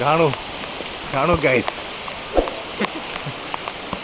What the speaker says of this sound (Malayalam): നല്ല രീതിയിലെ മഴയാണ്.